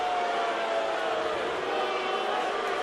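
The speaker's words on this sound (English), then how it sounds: "Crowd getting a little restless." Restless crowd murmur at a UFC 61 mixed martial arts event, a steady dense roar of many voices filling the arena throughout, with no distinct cheers or claps standing out.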